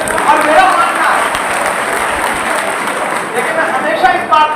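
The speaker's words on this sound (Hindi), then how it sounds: "आप अपने लिए एक बार जोरदार ताली बजाएं" Audience applause at a poetry recital, a broad continuous wash of clapping from a large crowd, fairly loud and steady for several seconds with faint voices mixed in.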